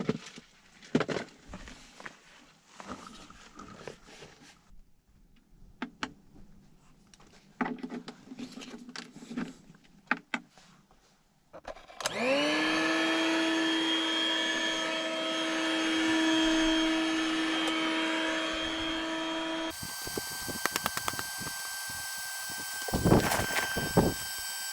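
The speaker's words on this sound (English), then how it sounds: "So I will plug the Bluetti in and let's blow up the mattress." An electric pump powered by a Bluetti power station inflates an air mattress inside a car during beach camping, a steady droning whir with tonal hum starting midway after scattered handling noises, then shifting pitch near the end.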